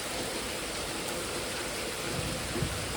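Heavy rain pours steadily during a monsoon morning, a dense, continuous hiss with no pauses and no voices.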